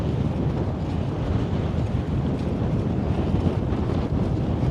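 Wind buffets a microphone on a bicycle ridden into a steady southwest headwind, a loud continuous low rumble with no letup and no voices.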